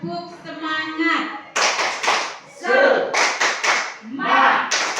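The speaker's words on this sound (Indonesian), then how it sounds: "Tepuk semangat." A group performs the rhythmic 'tepuk semangat' clapping routine, standing during an Indonesian school session, with bursts of patterned claps mixed with voices chanting along in time.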